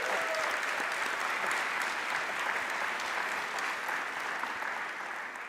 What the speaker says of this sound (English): So let's give our speakers a round of applause.